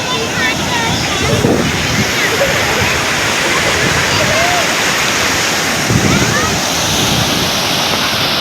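Big sea waves crash and roll continuously at Somnath beach, a loud, steady roar of surf with heavier surges around the start and near six seconds, with wind and faint voices mixed in.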